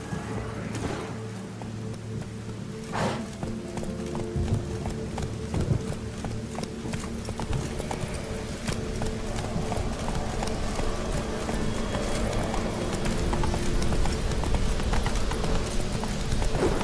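Roach, the horse in The Witcher 3 on Skellige, gallops with steady rapid clip-clop hoofbeats under a constant low game ambience, continuing throughout.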